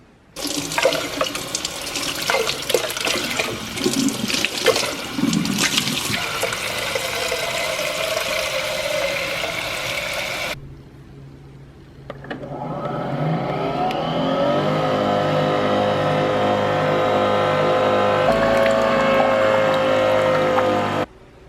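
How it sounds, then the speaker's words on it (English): A steady mechanical whir and gurgling water flow from a Nespresso coffee machine running a cleaning cycle, first noisy and busy, then a loud continuous pumping hum with a rising tone. "it's finished cleaning, and I have to say, the Nespresso is loud"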